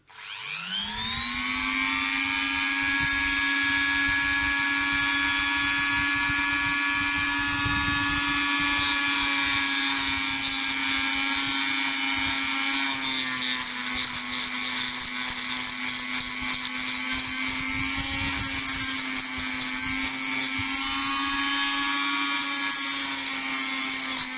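A power sanding tool whirs at a steady high pitch for the whole stretch, with a grinding, abrasive edge as it works against an olive pit prayer bead.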